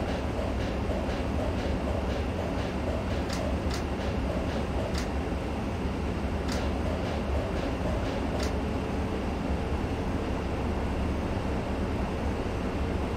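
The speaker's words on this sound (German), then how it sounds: "Das heißt, wir ziehen den Zug mal hoch." Train in the Zusi 3 rail simulator game on the Bestwig–Kassel line, a steady rolling rumble with rhythmic clicks of wheels over rail joints, continuous and fairly loud.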